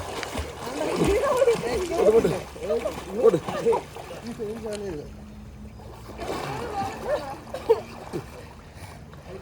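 A person swims and splashes in water on a trip in Wayanad, repeated close splashes and churning bursts with a pause midway, while people talk and shout encouragement over the noise.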